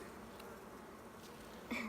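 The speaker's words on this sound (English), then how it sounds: "That bee's got a lot of pollen on its legs." Honey bees buzz steadily and close during a hive inspection, a continuous insect drone that swells slightly louder near the end.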